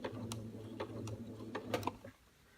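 A sewing machine stitching quilt fabric for Drunkard's Path blocks, a quiet, close, rapid mechanical clatter with a few sharper ticks, stopping abruptly near the end.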